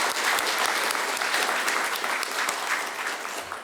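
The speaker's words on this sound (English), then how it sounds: "Let's give them all, again, a warm round of applause for their commitment to our community" A warm round of applause from the audience at a city's State of the City Address, dense, steady clapping from many hands filling the hall for the full stretch without talk.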